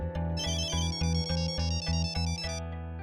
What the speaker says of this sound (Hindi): किसका फोन है? जल्दी देखो।